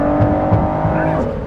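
A hypercar engine accelerates hard from right behind the cabin with no insulation, a loud close rising drone with a steady harmonic whine, surging briefly before the pitch shifts near the end.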